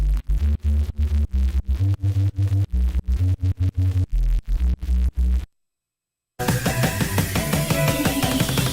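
Synth effect built from an amplitude-modulated noise channel with octave grains, a pulsing rhythmic low throb of repeated notes, a second of silence, then a bright, harsh, noisy texture.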